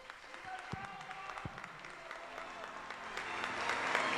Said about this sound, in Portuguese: do Papa Leão XIV aos presentes, em meio aos aplausos, o canto final.